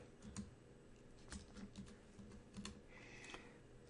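Typing on a computer keyboard, quick clusters of soft close-up key clicks in short bursts with brief pauses between them.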